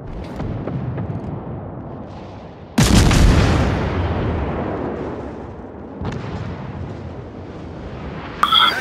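Naval artillery salvos in World of Warships thunder at an enemy warship: three heavy, booming blasts, each with a long rumbling decay. The first is loudest, the others follow a few seconds apart over a low background rumble.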